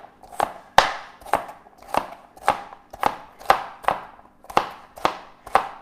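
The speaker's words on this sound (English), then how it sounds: "So here we are dicing the carrots." A knife dicing carrots on a cutting board, about ten crisp, evenly paced chops close by with no talking.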